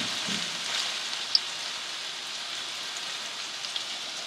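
Onions and slit green chili frying in a pan on medium flame, a steady soft sizzle with one faint pop and no talking.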